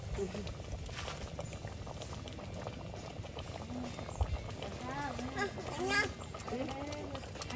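Water boiling vigorously nearby, a continuous bubbling and gurgling roll, with people talking over it.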